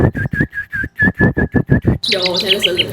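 A singer from an a cappella vocal group imitates bird calls with the voice, giving a rapid run of high chirping, warbling whistles after a stretch of clipped spoken syllables, close and clear.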